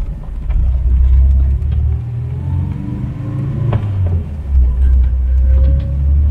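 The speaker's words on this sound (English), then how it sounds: "Very distinctive noise with these Skodas." Skoda Estelle 120L engine pulling away, a deep, loud rumbling drone that surges as it accelerates, heard from inside the car with no talk.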